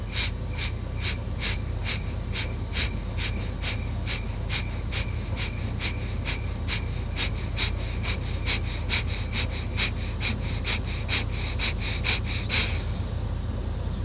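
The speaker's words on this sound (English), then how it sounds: "Starting with a deep inhale, exhale in 30 forceful breaths." Kapalbhati yoga breathing: a steady run of about thirty sharp, forceful nasal exhalations in quick even rhythm, close and clear, ending in a longer release.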